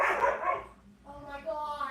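A dog barks a few times, fairly close and moderately loud, with yelping, whimpery tones in the second half.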